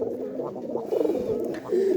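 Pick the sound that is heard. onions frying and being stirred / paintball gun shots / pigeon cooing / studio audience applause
pigeon cooing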